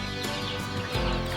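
Backyard hens clucking nearby in a rural Philippine yard, a short burst of throaty clucks with no one speaking.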